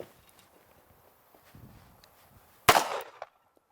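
A single sharp gunshot from a WWII-era Japanese handgun rings out loud and close after a quiet stretch, followed by a brief ringing decay.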